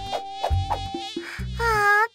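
A cartoon mosquito in a kids' show buzzes in short tonal bursts followed by a longer, louder whine, close and clear with no talking over it.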